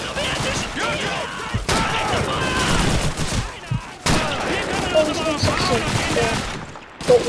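Fully automatic rifle fire in Call of Duty 2, a World War II shooter: sustained bursts of rapid shots, loud and close, with short pauses between strings, while people talk over the action.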